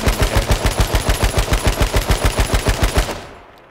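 Rapid automatic gunfire in the battle royale game H1Z1, a loud, close burst of about twenty evenly spaced shots over three seconds that then cuts off into a brief fading tail.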